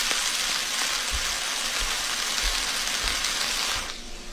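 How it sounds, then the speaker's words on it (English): Chicken frying in hot oil, used as a stand-in for rain, gives a dense, steady crackling hiss with scattered pops and low thumps, close and fairly loud, then drops away sharply near the end. "Almost every single rain sound in film and TV is actually the sound of frying food."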